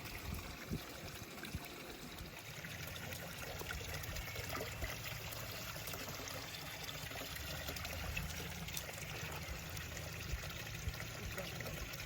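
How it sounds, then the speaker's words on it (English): Water trickles steadily through a running Aquascape filter urn in a garden pond, a continuous close, bubbling flow that stays even throughout with no talking. "Filter urn is running, water is nice and clear"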